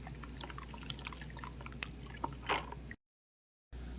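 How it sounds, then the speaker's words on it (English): Tomato juice draining through a strainer into a bowl for a basil sauce, a quiet steady trickle with scattered drips and one brief splashy gurgle before a short silent gap. "Sit here and just strain our tomatoes out."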